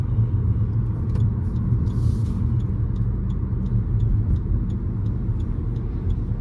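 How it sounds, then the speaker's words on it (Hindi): A car coasting down from about 80 without the brakes, its steady low road and engine rumble filling the cabin evenly, with faint ticking sounds above it. "तो मैं अभी से देखो गाड़ी स्लो कर दिया, अभी से मेरा गाड़ी एकदम स्लो हो गया"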